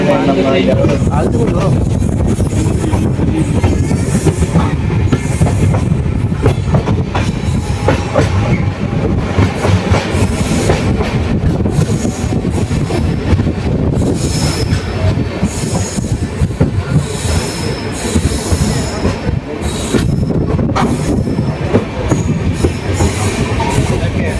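Uday AC Double Decker Express, train 22666 from Coimbatore to KSR Bengaluru, rumbling steadily on the rails with loud continuous wheel noise, squeals and clatter heard from on board.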